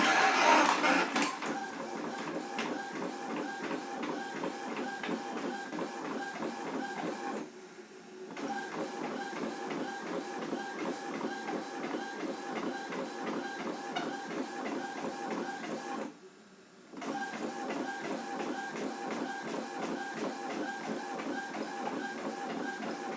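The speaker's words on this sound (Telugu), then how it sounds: "అక్కడ ప్రింటర్ దగ్గర కూడా రెస్పాన్స్ వస్తుంది" Printer running a print job sent wirelessly from a mobile phone, a steady mechanical clattering and whirring that keeps a regular rhythm, with two brief pauses between passes, fairly quiet and heard alone.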